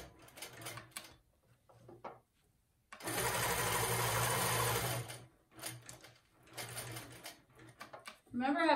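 Longarm quilting sewing machine stitching along a ruler, a loud steady rapid hum for about two seconds, with a person talking before and after.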